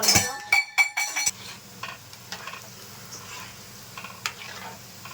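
Punugulu fritters made from leftover idli batter fry in hot oil with a soft continuous sizzle, opening with several clinking utensil scrapes against the pan and a few later stirring knocks.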